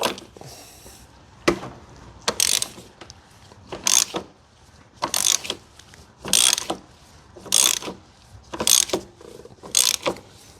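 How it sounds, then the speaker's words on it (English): A ratchet with a 36mm socket works the oil filter housing on a BMW E36 328 coupe, giving about eight close, rhythmic clicking strokes spaced roughly a second apart, with quiet pauses between them. "36mm socket for the oil filter housing."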